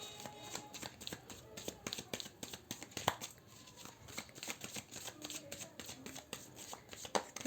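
Tarot cards are shuffled by hand, making soft repeated riffling and tapping bursts in an irregular rhythm, quiet and close.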